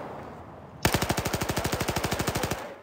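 Automatic gunfire in Battlefield 4 at Lumpini Park: after a quiet lead-in, a loud, sustained burst of rapid, evenly spaced shots rattles on for nearly two seconds, close and alone.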